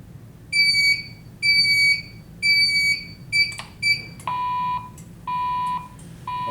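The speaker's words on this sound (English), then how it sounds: "now we have horns and strobes, we have an alarm condition" Fire alarm horns sound from a building panel after a detector is set off by test smoke, giving repeated loud electronic beeps in regular bursts that shift to a lower pulsed tone partway through over a quiet hum.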